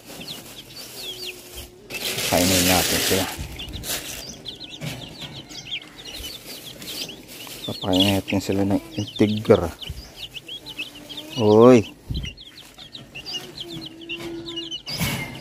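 Small chickens and turkeys clucking and chirping in a farm pen, with repeated close squawks and bursts of calls between quiet stretches, while a person talks over them.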